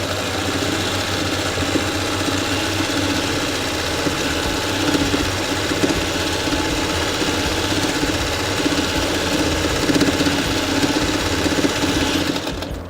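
A sewing machine stitching across the crotch and inseam seams while mending worn pants, running in a fast, steady mechanical whir close up for the whole stretch, without talking.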